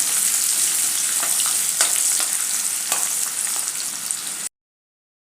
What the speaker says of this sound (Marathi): मी एक मिडियम आकाराचा कांदा कट करून घेतला आहे तो घालते कांदा व्यवस्थित परतून घ्यायचा आहे